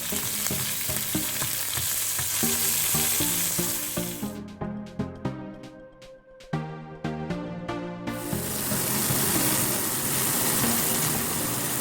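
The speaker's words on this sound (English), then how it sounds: "we need to cook the prawns, which are already cooked, but actually it's just to warm them up" Already-cooked prawns warm in a frying pan with a loud, dense sizzle that briefly drops away into a series of quick rhythmic clatters before the full hiss of frying returns.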